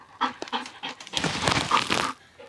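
A dog pants rapidly and close by during a search of a house attic, with quick, breathy bursts and a slight whimpering edge, fairly quiet and alone.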